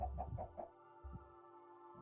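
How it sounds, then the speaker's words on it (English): Chickens in the ATM10 Minecraft modpack cluck in short game-sound bursts, a quick cluster of clucks followed by two more separate clucks over a low steady background hum. "Like the bees, I prefer chickens."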